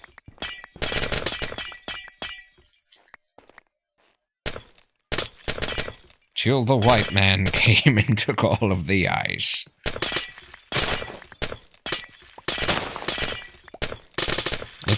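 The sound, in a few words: glass breaking in Minecraft video game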